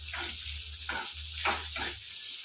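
Radish chutney ingredients frying in a pan, a continuous soft sizzle with a low steady hum beneath and a few rhythmic stirring swishes, heard alone at moderate level.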